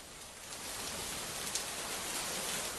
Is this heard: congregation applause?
no